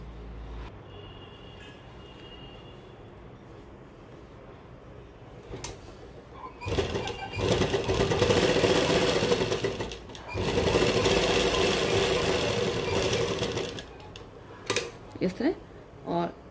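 Sewing machine running in long steady bursts while stitching lace along the neckline of a magenta dupatta, loud and close, with short pauses and a few clicks and handling noises between runs.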